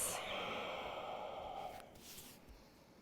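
Deep, audible breaths during a yoga twist, a long airy exhale that fades out after a couple of seconds, close and soft, with a faint voice near the end.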